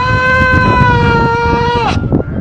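A young lamb from a shed gives one drawn-out bleat lasting nearly two seconds, loud and close, its wavering tone falling at the end over background noise and faint voices.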